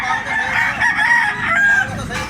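A blue-legged gamefowl bullstag of the Lemon 84 bloodline crows close by, one loud, drawn-out, strained call that fills the short moment.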